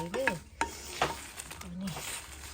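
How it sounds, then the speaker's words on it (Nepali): Chillies roasting in a pan for pickle are stirred with short scraping strokes and a soft sizzle, while someone speaks in brief bursts over the cooking. "यो अचारको लागि चाहिँ म खोर्सानी भुट्दैछु यो चाहिँ अहिले"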